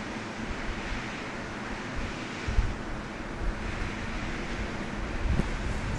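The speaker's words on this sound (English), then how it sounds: "Of course, you're going to hear the wind in the background as well as the trees." Steady wind rushes through trees outdoors on the grounds of El Paso High School in El Paso, Texas, a continuous broadband roar with slight gusty swells and no voices.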